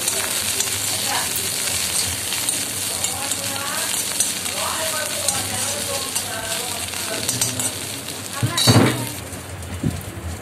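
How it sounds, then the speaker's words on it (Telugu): Fresh coriander leaves frying in a pan, a steady crackling sizzle close up that runs throughout, with a brief louder clatter near the end as the pan or leaves are stirred; no one speaks. "తర్వాత కొద్దిగా కొత్తిమీర అయితే ఫ్రై చేసుకుంటున్నానండి"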